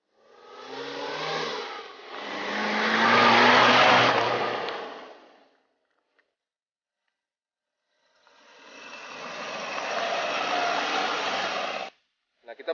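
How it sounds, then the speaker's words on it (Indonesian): A 1993 Suzuki Katana small car being driven, its engine whining loudly as it revs and pulls away, then falls silent for a couple of seconds before a second steady run. "Oke, kita cobain mobilnya ya."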